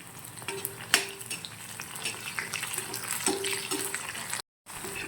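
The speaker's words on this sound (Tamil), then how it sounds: "வெங்காயம் பூண்டு ரெண்டும் நல்லா வதங்கி வரட்டும்." Onion and garlic sautéing in a pan for a Tamil turkey berry curry, with a soft steady sizzle broken by close clinks and scrapes of a stirring spoon.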